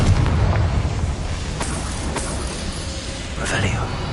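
A Confringo spell explodes in the video game Hogwarts Legacy, a muffled boom with a short fiery burst that rolls over a low rumbling background.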